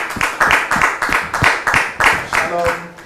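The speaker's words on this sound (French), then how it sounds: "recevoir ici et maintenant Monsieur Sostène, sous vos applaudissements, s'il vous plaît." A studio audience claps in a quick, rhythmic burst of applause, fairly loud and close, with a voice talking over the clapping.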